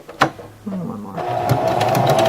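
A sewing machine stitches ribbon onto a garment bag, a sharp click followed by a short rapid mechanical whir that builds into steady, close stitching.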